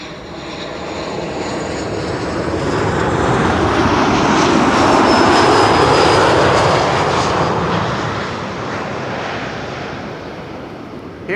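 Transavia airliner landing on runway 06 at Amsterdam Schiphol, a broad loud engine roar that builds, peaks mid-pass overhead and fades away, with no talk.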